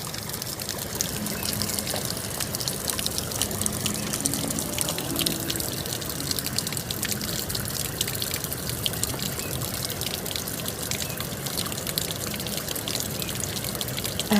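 Water splashes steadily from a garden waterfall, a continuous close rushing and trickling wash that never lets up, with no voices.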